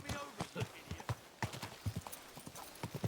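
Horse hooves clip-clopping in a steady, fairly faint rhythm in the video game Kingdom Come Deliverance II, with occasional snorting and voices mixed in.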